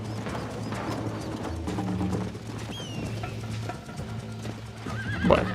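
Horse in the video game Red Dead Redemption gallops with steady rapid hoofbeats under a continuous game soundtrack, ending in a loud neigh near the close.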